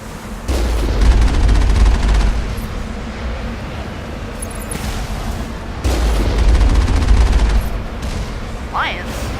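Turrets firing in the video game Mass Effect: two long bursts of rapid, heavy gunfire with booming low thumps, separated by a quieter stretch, fairly loud and close.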